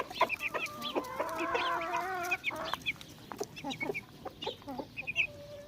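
A flock of hens in a yard clucks and chatters in quick, overlapping calls close by, with a few brief higher squawks mixed in and no talking.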